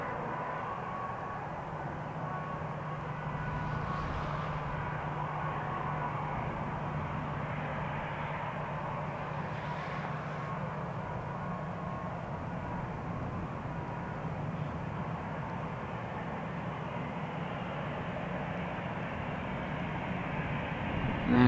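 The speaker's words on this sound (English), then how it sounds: "this Lufthansa Airbus has just touched down" A Lufthansa Airbus airliner rolls along the runway after touching down at Amsterdam Schiphol, its engines giving a steady, moderately distant low roar and whine that holds throughout with no talking.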